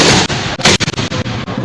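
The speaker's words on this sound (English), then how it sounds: "he was welcomed with a fantastical salute of guns" A rapid volley of gun salute shots fired to welcome a visiting minister, loud, sharp reports in quick irregular succession with no talk.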